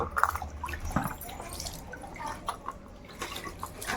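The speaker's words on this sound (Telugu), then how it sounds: "ముందుగా అయితే వాటర్లో అయితే మంచిగా కడగాలి" Raw mangoes for pickle are washed in water, with quiet splashing, dripping and sloshing close by, a few light knocks as the fruit is handled, low and fairly faint.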